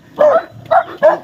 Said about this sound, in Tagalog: May mga aso dito.